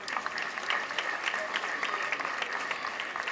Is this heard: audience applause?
yes